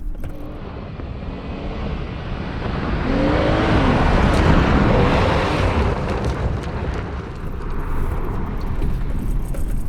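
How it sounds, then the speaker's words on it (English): A Jeep Gladiator Mojave pickup on Fox bypass shocks is driven off-road with its back end swinging out, a loud continuous engine and tyre roar that swells midway, with heavy wind buffeting. "let's see if we can swing the back end around a little bit"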